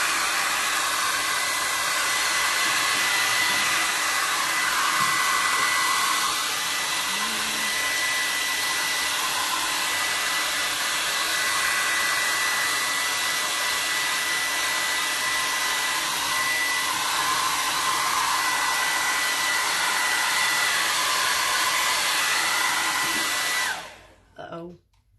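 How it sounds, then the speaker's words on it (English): A hair dryer blows steadily to dry gray paint on a Christmas tree truck craft, a loud continuous whoosh running alone for about 24 seconds before cutting off abruptly at the end. "I'm going to go ahead and dry it with my dryer."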